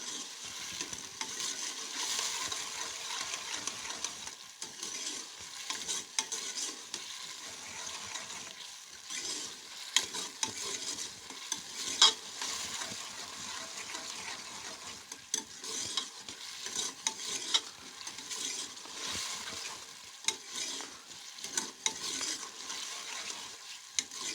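Egg and potato curry frying in a pan with steady stirring, a continuous close sizzle broken by scraping strokes of the spoon, with no talking.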